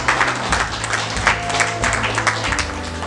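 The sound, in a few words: audience applause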